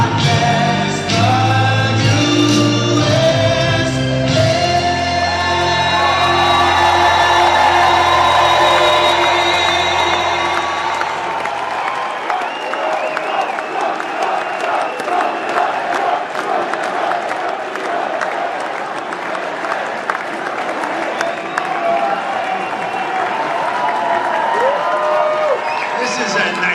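A packed hall at CPAC 2024 roars with cheering, whoops and sustained applause, loud and close, as patriotic music fades out under the crowd noise.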